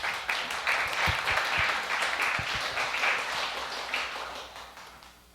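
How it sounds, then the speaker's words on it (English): An audience at a Sunday church service applauds steadily, a dense wash of clapping with a few sharp claps standing out, fading slightly toward the end. "let's give them another round of applause"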